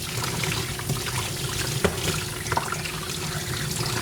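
Water from a grooming sprayer runs steadily over a miniature poodle on a grooming table during the final rinse, a constant close hiss and patter with a few small splashes and no talk.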